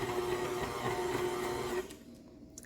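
A stand mixer fitted with a dough hook kneads bread dough for hamburger buns on low speed, giving a steady mechanical whir with rhythmic thumping that cuts off near the end, and no voices.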